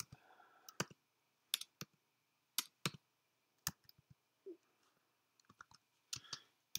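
Scattered bursts of clicky key presses on a computer keyboard as a short message is typed, quiet and close, separated by brief pauses.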